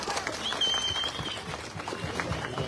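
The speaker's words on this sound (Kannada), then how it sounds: "ದಯವಿಟ್ಟು ಪೊಲೀಸ್ ಅವ್ರಿಗೆಲ್ಲ ಒಂದ್ ಚಪ್ಪಾಳೆ ಇರ್ಬೇಕಪ್ಪ" A crowd at an International Women's Day programme in Manganahalli, Yeshwanthpur claps for the police, a brief patter of scattered applause that carries on steadily for a few seconds.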